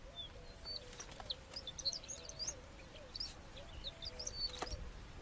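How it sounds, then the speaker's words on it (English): Temminck's horned lark in the Negev desert gives repeated thin, high chirps and short warbling phrases, faint and somewhat distant over a soft, breezy background. "the Temminck's horned lark"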